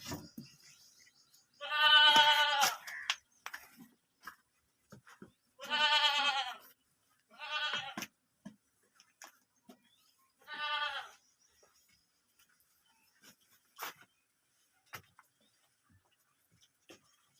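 Goat bleating in several separate, fairly close calls spaced a few seconds apart, with quiet pauses and faint clicks between them.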